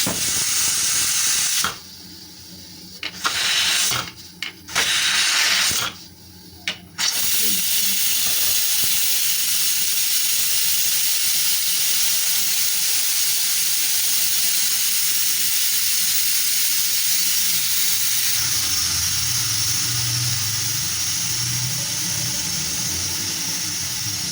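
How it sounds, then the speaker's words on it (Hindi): A continuous loud hiss of steam escaping from a pressure cooker after cooking chana dal, with a few brief pauses early on, then a steady rush with some low rattling. "इसकी स्टीम निकालेंगे।"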